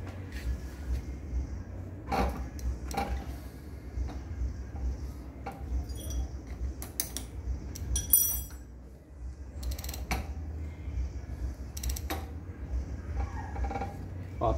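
The freewheel of an electric bicycle is tightened into place during maintenance, giving intermittent metallic clicks, creaks and clinks spread across a steady low hum, with a sharper clatter midway.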